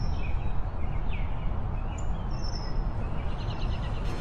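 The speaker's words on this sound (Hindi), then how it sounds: "यह एक चिड़िया है" A small bird chirps a few times, faint and short, over steady broadband background noise.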